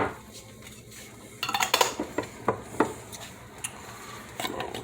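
A utensil scraping and clinking against a pot while peppers are stirred into a chili, with a run of irregular knocks and scrapes that starts after a quiet moment and stays close and moderately loud.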